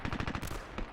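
Assault rifle in the shooter video game Dirty Bomb fires a rapid automatic burst of about eight sharp, evenly spaced shots, loud and close, with a brief gap before a final shot.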